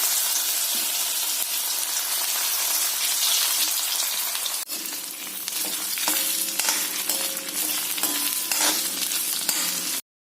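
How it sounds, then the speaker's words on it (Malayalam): Cauliflower pieces fry in a pan of hot oil with a dense, loud crackling sizzle, steady throughout, then a stirring clatter and bubbling as the pieces are moved. "കോളിഫ്ലവർ ഇട്ട് വറുക്കുന്നു"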